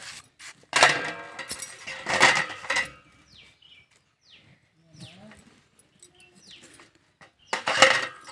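Ripe yellow pumpkin being cut into pieces with a knife, three loud crunchy chopping bursts near the start and end separated by quieter scraping and faint handling sounds.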